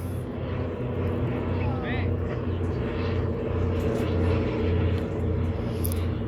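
A propeller airplane drones overhead while dropping paratroopers above a lake, a low, steady rumble heard from a distance on a rocking floating dock, with voices talking nearby.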